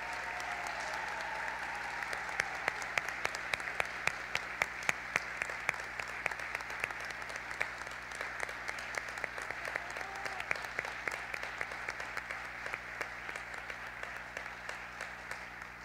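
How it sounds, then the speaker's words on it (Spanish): Sustained applause from a graduation ceremony audience in a hall, steady dense clapping with sharper individual claps standing out, continuing throughout at moderate level with faint murmur underneath. "Damos un caluroso aplauso."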